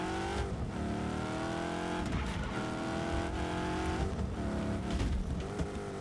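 Sports car driven hard in Just Cause 3, with a loud, steady engine roar that shifts pitch as it accelerates and brakes, plus brief tire squeal, close and continuous with no talk.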